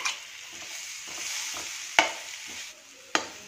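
Coarsely ground peas stirred in a pan for a kachori filling, giving a steady scraping sizzle with two sharp spoon knocks near the end.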